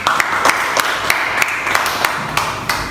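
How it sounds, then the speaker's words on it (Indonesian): Classroom applause from a group of students at the end of a lesson, a steady patter of many hands clapping close by for about three seconds, with no talking over it. "Aplaus untuk kita semua."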